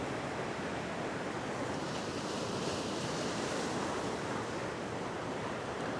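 Ocean waves break on rocks along a rocky fishing shore, a dense, continuous roar of surf with wind buffeting the microphone and no talk.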